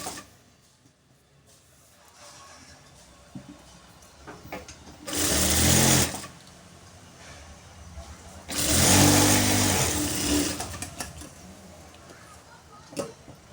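An electric sewing machine stitching lining cloth runs in two loud whirring bursts of a few seconds each, separated by quieter handling sounds and faint background noise.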